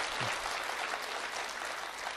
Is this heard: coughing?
no